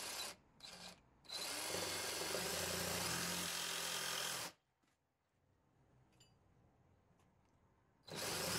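A battery-powered saw cuts through material in a short start, a stop, then a sustained loud whining run of several seconds, followed by quiet handling and a fresh burst at the end.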